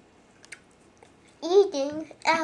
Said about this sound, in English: Means you're putting them in your mouth and you're crunching them.